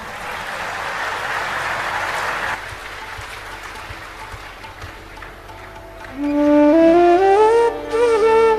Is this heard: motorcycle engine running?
no